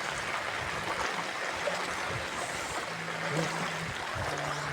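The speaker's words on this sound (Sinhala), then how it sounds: "හැමතෙම වෙන වතුර පාර පේනවා." Rainwater runs across a flooded road, a continuous rushing, trickling wash of moderate loudness, heard alone with no talking.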